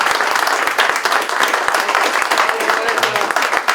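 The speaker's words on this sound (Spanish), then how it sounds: "Otro aplauso. ¡Bravo!" Audience applause at a ceremony awarding medals to teachers for academic seniority, loud and close, with distinct individual claps standing out in a rapid rhythm over the dense crowd clapping and some voices mixed in.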